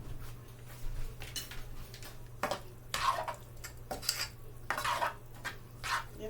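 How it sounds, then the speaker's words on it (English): A spoon scrapes and knocks inside a pot of pasta sauce for a supreme pizza pasta, a run of soft irregular stirring scrapes and light clinks at a quiet level over a steady low hum. "Give that a bit of a stir"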